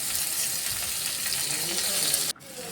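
Steady, dense sizzling of onions and green chilies frying in a hot pan, close by, cutting off abruptly near the end.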